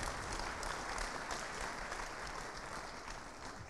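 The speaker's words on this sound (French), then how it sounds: "Et on les applaudit là aussi bien fort tous les quatre." Dense, steady applause from an audience at an innovation awards ceremony, many hands clapping loudly and continuously throughout with no break.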